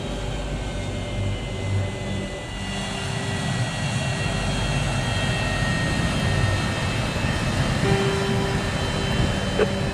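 A fixed-wing airplane comes in to land at Bangor, its engine roar a steady loud rumble and whine that builds slightly and holds throughout without a break.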